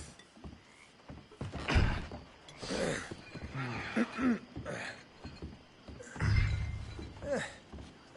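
A horse neighs and whinnies in the video game Red Dead Redemption 2, several close calls rising over game ambience and intermittent voices.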